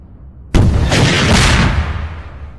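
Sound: explosion from a big weapon in the video game Eve Online

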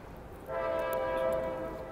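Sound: Amtrak train horn

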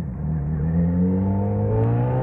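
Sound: Yamaha XJ6 motorcycle accelerating

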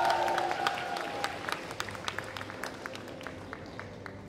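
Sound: applause at cosplay festival award ceremony

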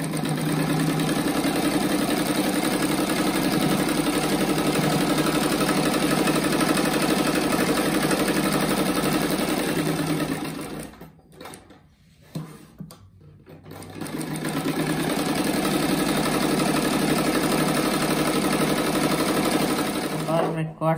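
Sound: sewing machine stitching a fabric rug

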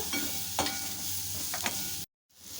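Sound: onion and tomato sautéing and being stirred in pan

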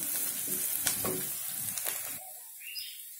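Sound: onions frying with salt in a pan

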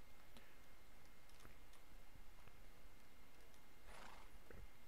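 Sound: horse neighing and hooves in the video game Minecraft

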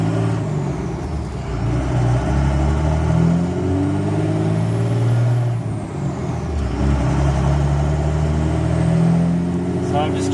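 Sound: Cummins diesel truck driving up a road

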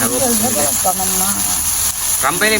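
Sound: onion frying and sizzling in oil

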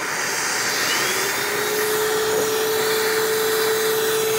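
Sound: vacuum cleaner running

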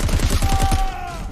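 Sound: gunshots shooting targets in video game Crackdown 3

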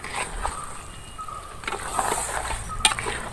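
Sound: stirring fish curry with ground fennel in a pan

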